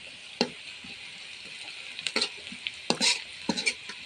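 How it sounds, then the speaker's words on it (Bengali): Onions frying in oil in a wok, a soft background sizzle broken by several scraping stirs of a spatula against the pan, near and fairly quiet, with no talking. "পেঁয়াজগুলো ভেজে নিলাম।"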